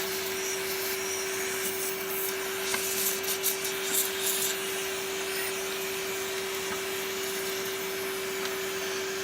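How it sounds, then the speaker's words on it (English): A Hoover Turbopower UB088 vacuum cleaner with its hose attached sucks up fine dust: a steady, loud, whining drone throughout, with a few brief scraping and rubbing sounds near the middle as the nozzle moves. "And use it to suck out the fine particles of dust."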